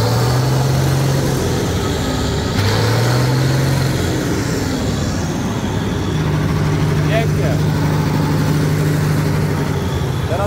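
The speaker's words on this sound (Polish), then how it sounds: "Pracuje ten motor" A warmed-up Bizon Rekord Z058 combine harvester engine runs steadily after valve and injector adjustment, a loud continuous diesel drone with a low hum, while people talk over it.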